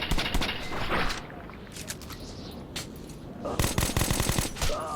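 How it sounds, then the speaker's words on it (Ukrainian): Rapid bursts of automatic gunfire crackle in short volleys in the video game Metro 2033 Redux, loud and close, with brief lulls between them. "Стріляй, Артем!"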